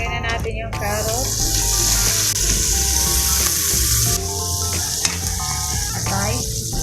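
Carrots go into a frying pan with pork, Chinese longganisa and bihon noodles, giving a steady loud sizzle and some stirring clatter while someone talks over it.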